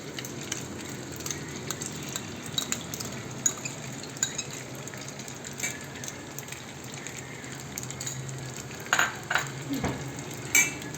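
Pasta frying in butter in a pan gives a steady low sizzle under scraping and stirring, with a few clinks of a utensil against the pan near the end, close and moderate in level.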